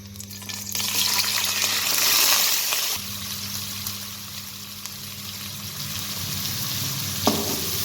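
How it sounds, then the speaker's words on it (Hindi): Onions sizzle and fry steadily in a hot pan, a continuous crackling hiss that dips briefly, with a soft clink near the end. "प्याज को हम ब्राउन होने तक फ्राई करेंगे।"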